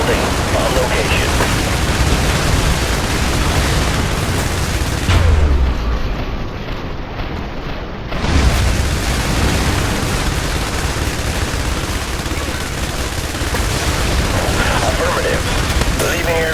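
Airstrike and artillery explosions from the IS Defense video game, a dense continuous rumble of booms and gunfire with a brief dip midway before the heavy bombardment resumes, under radio-style voice callouts.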